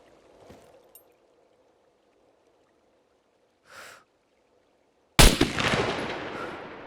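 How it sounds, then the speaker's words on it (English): Sniper rifle in the game SCUM: after quiet stretches with a couple of faint soft sounds, a single loud, sharp crack lands near the end and rings out into a decaying tail. "See, now this is a sniper rifle."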